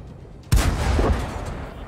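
A tank's main gun fires once in a tank battle game, a sharp loud blast with a heavy low boom that rings out and decays over the following second and a half.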